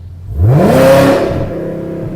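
Close engine revs of a Chevrolet Camaro ZL1 V8 with Borla full exhaust and long tube headers in track mode, valve open, climb quickly into a loud, raspy roar, hold briefly, then ease back to a rumbling idle.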